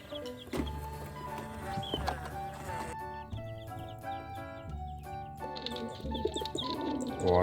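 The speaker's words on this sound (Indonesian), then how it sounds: "lihat teman-teman, ada 3 ekor burung dara." Toy pigeon sound effect from an animal truck toy: electronic cooing and chirping bird calls over a repeating musical jingle, moderately quiet and continuous.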